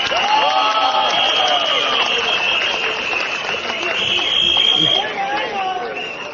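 A boisterous crowd at an outdoor Workers' Party election rally in Hougang, Singapore, cheers, whoops and claps loudly and continuously, with air horns blaring amid the din.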